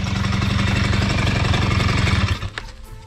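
The engine of a Honda Dio AF-18 moped runs loud and close with a rapid, rattling two-stroke putter, then cuts off abruptly near the end, leaving a few faint clicks.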